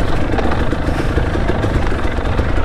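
A KTM 250 XC-W dirt bike ridden on a single-track trail, its two-stroke engine buzzing loud and close with a steady, rough drone and small throttle fluctuations.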